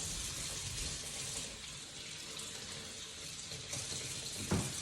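Water runs steadily from a tap in a soft, continuous hiss, with a brief knock near the end.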